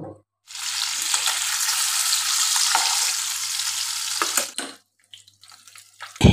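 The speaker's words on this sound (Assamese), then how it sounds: "ইয়াতে মই এতিয়া কাৱৈ মাছকেইটা ভাজি ল'ম" Koi fish sizzle loudly in hot oil in a wok, a steady dense crackle starting after a brief pause and running about four seconds before cutting off, followed by faint clinks.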